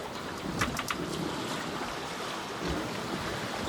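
A sailboat running downwind at sea in about 15 knots of breeze, with a steady wash of water and wind noise around the hull and a few brief splashes and knocks.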